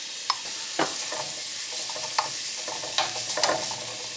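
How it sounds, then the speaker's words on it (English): Carrots and celery fry in hot oil in a big deep pan for Japanese-style fried rice, giving a steady, close hiss of sizzling with a few sharp pops and crackles scattered throughout. "once the oil is nice and hot, then you can start adding in the carrots and celery"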